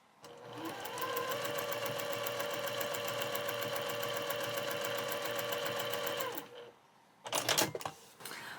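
A sewing machine stitches a scant quarter-inch seam on quilt squares, running in one steady rapid whir for about six seconds before stopping, followed by a few brief handling clicks.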